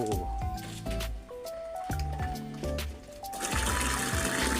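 Small aquarium water pump runs in a tank, its steady hum mixing with continuous splashing and gurgling water that grows fuller and louder toward the end.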